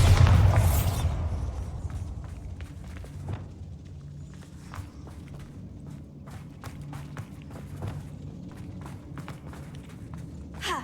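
A Bombarda blasting spell explodes in Hogwarts Legacy with a loud, broadband boom at the start that quickly decays into a long rumbling tail, followed by scattered footsteps and faint thuds over a low ambient drone.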